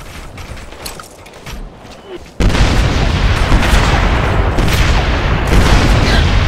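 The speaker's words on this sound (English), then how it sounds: "Give me HE barrage artillery, 75 meters east of my position." HE artillery barrage in the video game Operation Flashpoint: Red River: scattered distant shots and radio chatter, then a sudden loud, sustained roar of impacting shells that keeps rumbling to the end.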